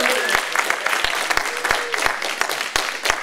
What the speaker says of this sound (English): if everyone would just join us in applauding our esteemed speakers